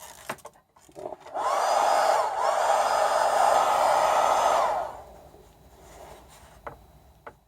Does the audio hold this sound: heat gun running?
yes